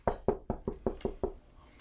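Seven quick, evenly spaced knocks on a door, crisp and fairly close, with no talking.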